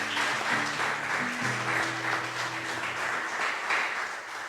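A church congregation applauds together, a dense sustained burst of clapping that fills the room evenly throughout, with faint organ or keyboard tones underneath.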